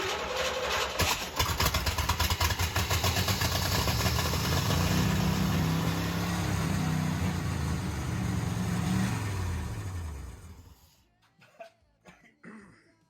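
A 1966 Chevy Nova with stuck carburetor floats runs roughly and loudly up close for about ten seconds, then dies away into near silence with a few faint clunks.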